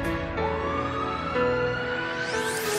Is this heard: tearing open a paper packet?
no